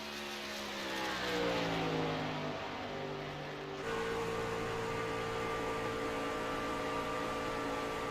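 A race car engine screams through a hot lap in a racing video game, with steady high-pitched harmonics that rise and fall through gear changes and then hold a constant loud drone.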